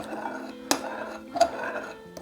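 A spoon stirs ground black pepper sauce in a bowl for a Chinese beef stir fry, with three sharp, close clinks of metal against the bowl spaced about a second apart over a low, steady background hum.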